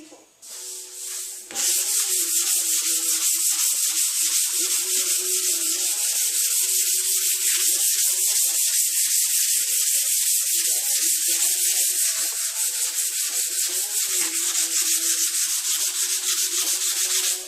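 A Honda Civic fender is sanded by hand with 180-grit paper on a small Durablock. After a short start, a steady close scraping rub continues without pause and no one speaks.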